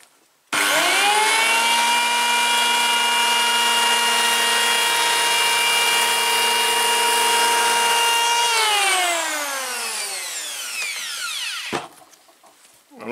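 A SKIL 1590 AA electric planer set to zero cutting depth screams loud and steady for about eight seconds, then winds down gradually as it spins to a stop.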